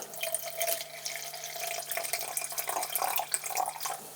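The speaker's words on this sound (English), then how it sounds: "it's always worth turning it onto its side and pouring from the side" Water pours steadily from a big container tipped on its side, a continuous splashing and gurgling stream with a faint steady hum underneath.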